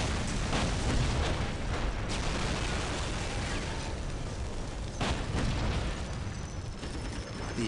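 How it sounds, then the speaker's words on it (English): Loud, sustained battle explosions and rumbling booms fill a Warhammer 40,000: Dawn of War skirmish, with dense continuous blasts and a few sharper bursts across about eight seconds. "Explosion."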